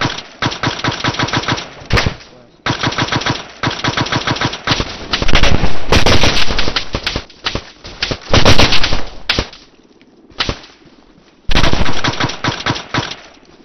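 Bursts of machine gun suppressing fire during a special operations training exercise, loud and close, rapid rattling strings of shots in repeated long and short bursts with brief pauses between them.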